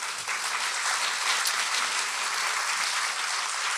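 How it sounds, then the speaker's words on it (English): An audience applauds a wonderful group of people at a college Book of the Year event, steady dense clapping filling the room at an even level for the whole stretch with no talk over it. "a round of applause"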